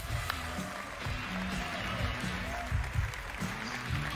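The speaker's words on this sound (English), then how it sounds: "Give me a round of applause for Antoine Henry" Audience applause at the Ubisoft E3 2011 press conference, a moderate sustained clatter of clapping from a large crowd, with voices murmuring underneath.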